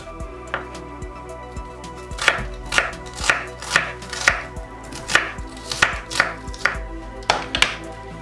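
A knife slices onion into half-moons on a board for a shopska salad, making a brisk series of about twenty sharp, close chops in an uneven rhythm.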